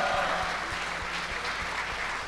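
A game-show audience applauds a contestant named David Tifa at the final of Ultime Décathlon, a steady, dense wash of clapping with faint rhythmic low thumps running underneath.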